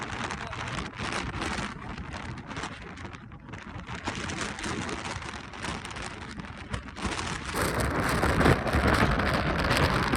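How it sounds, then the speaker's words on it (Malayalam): Light rain with gusting wind and mist on a hill near home, a continuous rough wash of drops and wind buffeting the microphone, growing slightly louder toward the end, no voices. "മഴ ലേശം."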